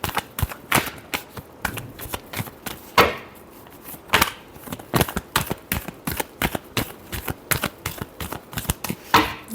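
Tarot cards are shuffled by hand in a steady series of crisp riffles and flicks, close and fairly quiet, with brief pauses between bursts.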